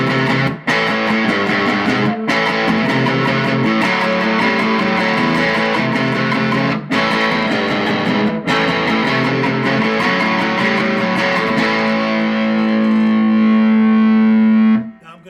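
Semi-hollow electric guitar played through a Dr. Z Z-Drive overdrive pedal with drive about three-quarters up and level just under half, giving a dense, distorted, sustained tone with strummed chords and brief pauses, ending on a long ringing note.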